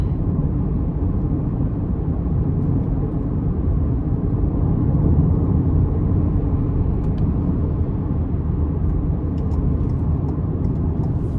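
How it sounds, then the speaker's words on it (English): Tire and road noise fills the cabin of a 2024 Ford Bronco Sport with a 1.5 turbo three-cylinder while driving, a constant loud low roar that holds steady throughout. "I feel like these tires can be a tad bit loud"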